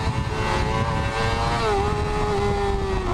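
A red inline-four 600cc sport motorcycle screams near its redline above 10,000 RPM, chasing cars at the Nurburgring; a steady, loud, high-pitched engine wail that drifts slightly in pitch throughout.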